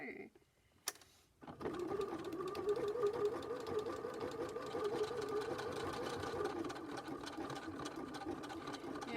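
A sewing machine runs a steady triple stitch on a hearts zipper purse, a continuous close whirring hum that starts after a couple of brief knocks and holds evenly to the end.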